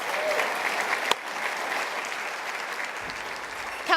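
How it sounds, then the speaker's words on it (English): Guests at an ethnic business awards gala dinner give a steady round of applause, a dense, even clatter of many hands filling the room throughout. "Yes, give a round of applause."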